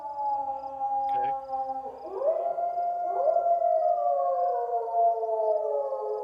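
Wolves in the video game DayZ howl in overlapping, long, rising and falling tones, moderately distant and steady across the stretch, over a continuous low game ambience.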